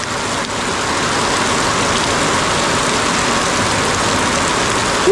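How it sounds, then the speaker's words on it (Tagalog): Heavy rain pours down steadily, a dense even hiss that stays loud and unbroken throughout. "Umuulan dito sa bahay mo."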